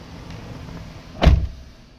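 A power window in a Chevrolet Silverado pickup gives a short motor whir followed by a soft thud as the glass reaches its stop, heard up close inside the cab with no talking.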